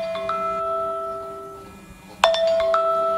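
Alert tone from a Bionecklace health-monitoring locket: a short two-note electronic chime that sounds once, fades, then repeats with a sharp onset, clear and fairly close.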